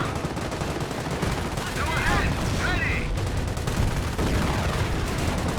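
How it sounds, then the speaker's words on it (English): A short-barrel Panzer IV tank fires in a Company of Heroes battle, surrounded by dense gunfire and machine-gun bursts that roll on steadily and loudly across the whole stretch, with blasts landing amid the din. "Short barrel Panzer IV firing away, but is in range of the 17-pounder."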